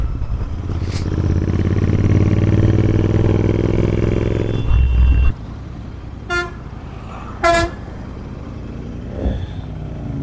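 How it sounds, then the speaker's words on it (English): An 865cc Interceptor motorcycle rides in a group of about 30 bikes, its engine a loud steady drone for five seconds, then quieter road noise with two short horn toots. "So this is the 865cc Interceptor."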